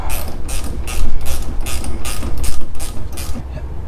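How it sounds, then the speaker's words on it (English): A hand ratchet tightens the sway bar end link bolts on a GM W-body car, loud close clicking pawl strokes in a steady back-and-forth rhythm, about eight pulls. "I'll come in and tighten up the end link bolts."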